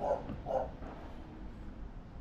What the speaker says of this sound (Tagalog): Sana wag makawala yung aso.